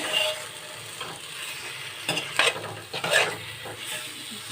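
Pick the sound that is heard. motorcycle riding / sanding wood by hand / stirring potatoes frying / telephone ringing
stirring potatoes frying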